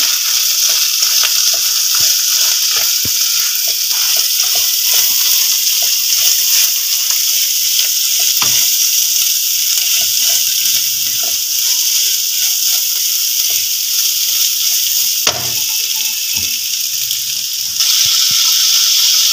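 Keema with spices and a splash of water fries in a pan, giving a loud, continuous sizzle and hiss with occasional stirring scrapes, heard alone and close.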